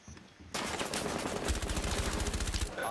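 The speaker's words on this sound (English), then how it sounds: "They're shooting through this window I'm marking." Rapid gunfire bursts through a window in the video game Rainbow Six Siege, loud and close after a quiet start, with a dense automatic-weapon rattle lasting about two seconds.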